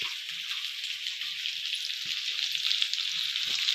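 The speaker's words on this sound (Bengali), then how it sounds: "ওলকপি আলু খুব ভালো করে ভেজে নিয়েছি এর মধ্যে হলুদের গুঁড়ো দিয়ে দেব" Kohlrabi and potatoes fry in a pan with a steady, close sizzle filling the whole stretch, with a few soft stirring knocks underneath.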